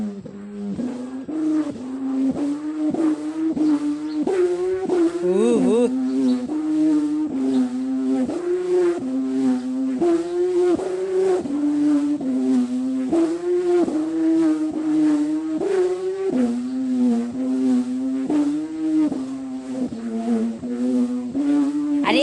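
A small humming bow on a Thai chula kite hums steadily in the wind, a buzzing drone that pulses rhythmically and wavers slightly in pitch throughout.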